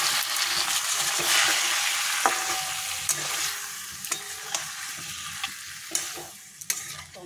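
Potato and pointed gourd with poppy seed paste sizzle steadily in a pan while a spoon stirs and scrapes through the mix, with sharp clicks of the utensil against the pan and no talking.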